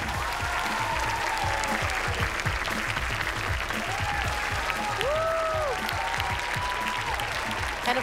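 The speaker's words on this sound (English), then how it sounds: "One more big round of applause for our winners!" Steady audience applause for the winners at a National STEM Championship awards ceremony, a dense even wash of clapping that carries through, with brief amplified voice tones rising over it.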